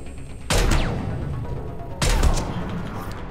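Rifle fire in the Mass Effect 3 video game on Tuchanka, two sharp loud bursts about a second and a half apart, each trailing into a sustained rumbling roar.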